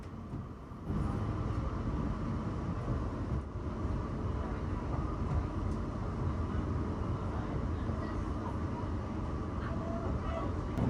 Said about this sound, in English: we took a train departing from London Waterloo to Weybridge.